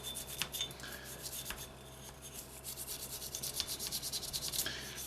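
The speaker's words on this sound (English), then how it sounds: "Just give it a good old scrub there." A polymer brush scrubs carbon off an HK VP9 pistol slide in quick, continuous back-and-forth strokes, a faint, close bristly rubbing with no voices.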